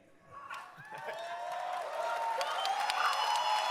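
Large crowd at the Gamescom 2023 showcase applauding and cheering, a dense wash of claps and shouts that swells after the first half-second and holds steady and loud to the end.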